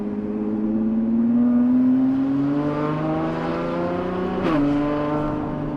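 Lamborghini Revuelto with a 3D-printed RYFT titanium exhaust revving on a road test, its loud engine note climbing steadily, then dipping at a gear change before rising again.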